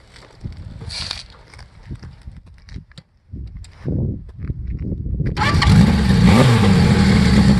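A 1976 Kawasaki KZ900 motorcycle engine cranks with a few sputtering tries, then catches and settles into a loud, steady idle that fills the rest.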